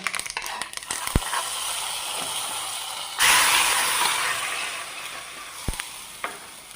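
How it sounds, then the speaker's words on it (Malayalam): Coconut oil tempering with mustard seeds and chilies poured into a drumstick coconut curry, a sudden loud hissing sizzle that slowly fades, with a few sharp clinks of utensils before and after. "അപ്പോൾ ഇതാ വറവ് റെഡി ആയിട്ടുണ്ട് ഇതിന് കറിയിലേക്ക് ഒഴിച്ചു കൊടുക്കാം"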